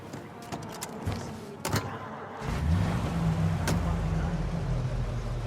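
Car in the Mafia video game, first with a few clunks and knocks, then an engine starting up into a steady low rumble that continues close and even.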